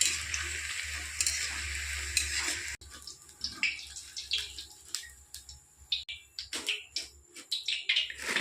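Pieces of young jackfruit frying in hot oil, heard close up: a dense steady sizzle gives way to quieter oil with sporadic sharp pops and crackles.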